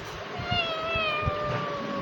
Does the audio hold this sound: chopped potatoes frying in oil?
no